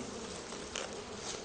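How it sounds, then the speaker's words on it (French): Honeybees buzz inside their hive in winter, a steady dense hum that is fairly close and unbroken, with no voices. "Les abeilles restent à l'intérieur des ruches"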